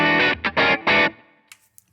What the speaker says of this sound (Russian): моя гитара изначально на бридже, хамбакер, звучит так